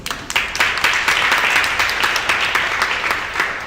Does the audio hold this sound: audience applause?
yes